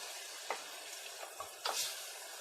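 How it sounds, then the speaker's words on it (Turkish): Homemade village-style tomato paste fries in a pan with a constant, faint sizzle. A few brief stirring scrapes rise above it, with no voices. "Birazcık daha kavrulacak. Salça kokusu çıkacak."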